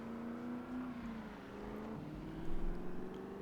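A car engine hums steadily as it drives in the zombie survival game Project Zomboid, faint and droning, with its pitch shifting downward midway and a brief surge near the end.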